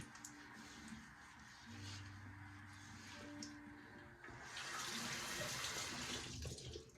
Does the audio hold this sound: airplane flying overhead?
no